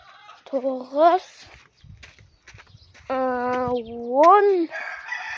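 Chickens crowing and clucking nearby, drawn-out calls in two bursts with quieter clucks between.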